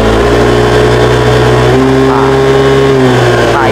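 Yamaha NMAX Turbo 2024 scooter engine revving at high RPM in turbo mode, a loud steady drone with pitch rising partway through, with a voice talking under it.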